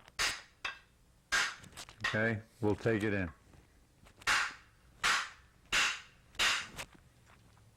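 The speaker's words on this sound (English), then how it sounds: "you just tap it in with a fairly large hammer" Sharp metallic taps of a fairly large hammer tapping a part into place on a Ford F-1 pickup, about nine, evenly spaced and close, with a short stretch of someone talking in the middle.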